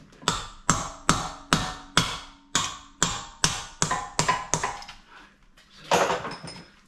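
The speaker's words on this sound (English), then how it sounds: "You just pull the hub out while I knock the shaft out" Hammer blows knock out the driveshaft of a Land Rover Discovery 3, about a dozen sharp metallic taps in a steady rhythm, close and loud, with a scrape at the end.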